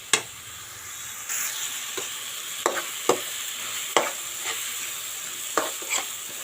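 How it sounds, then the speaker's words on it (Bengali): Spices with green chilli, onion, coriander, ginger and garlic being stir-fried in a pan for a spicy hilsa fish curry, a constant soft sizzle broken by several sharp spatula scrapes and taps. "এটাকে সুন্দর করে কষিয়ে নেব।"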